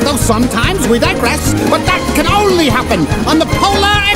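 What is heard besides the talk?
No everyday noises stand out.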